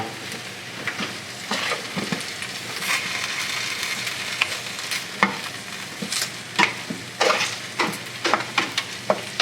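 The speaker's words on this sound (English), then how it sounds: "this is also a good time to turn the potatoes" Potatoes being turned in a hot pan with steady frying sizzle and repeated scraping, clinking spatula strokes, close and fairly loud, no voices.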